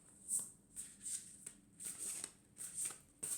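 A deck of cards is shuffled by hand in quick repeated riffles, several crisp fluttering bursts in a row, close and fairly quiet, with no voices.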